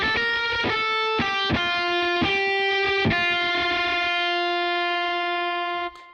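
Distorted electric guitar from the Wuthering Waves soundtrack strikes a series of chords in a loose rhythm, each ringing with a rich, overdriven buzz, and the last chord sustains and fades until a sudden cutoff.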